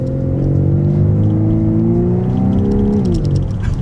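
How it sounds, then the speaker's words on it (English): A 2025 Volkswagen Atlas SUV's engine revs up steadily, its throaty hum rising in pitch for a few seconds before easing off, loud and close throughout. "why does this engine sound so good?"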